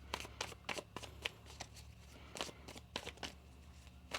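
Tarot cards are shuffled by hand close up, a quick series of soft riffling and slapping bursts at an irregular rhythm over a low steady hum.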